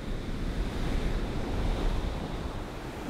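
Ocean waves break on a surfing beach in Lima, Peru, making a steady, dense roar of surf mixed with wind buffeting the microphone. No voices are heard.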